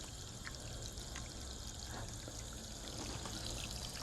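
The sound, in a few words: water flowing through homemade tankless water heater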